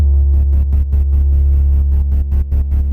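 A dry bass synth in FL Studio with no effects, a dark beat bass sound playing a loud, sustained deep low tone that pulses in a steady, rhythmic throb through the whole stretch, alone without voices.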